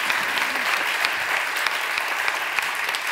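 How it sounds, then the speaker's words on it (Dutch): Warm applause from an audience at a Dutch discussion event, a steady, dense wash of many hands clapping that carries on evenly throughout, fairly close and full. "Geef er een warm applaus"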